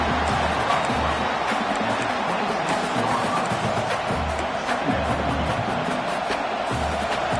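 Stadium crowd noise in the NCAA 26 college football video game: a steady, dense roar of a large crowd throughout, with a low rhythmic pulse underneath.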